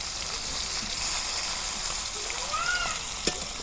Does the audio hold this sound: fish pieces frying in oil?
yes